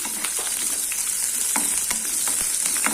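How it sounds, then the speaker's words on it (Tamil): Mustard seeds and urad dal spluttering in hot oil while cooking ladies' finger stir-fry, a loud constant sizzle studded with sharp popping crackles, close up. "இதில் கொஞ்சமாக நான் கடுகு உளுத்தம் பருப்பு சேர்த்துட்டு இது கொஞ்சம் பொரியட்டும் கடுகு பொரியுது"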